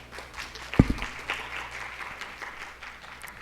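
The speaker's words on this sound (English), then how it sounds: "Please give all of the middle grades education majors a round of applause" Middle grades education majors receive applause from the audience at a fall education pinning ceremony at Albany State University, a steady patter of clapping with one sharp louder clap near the start, moderately distant.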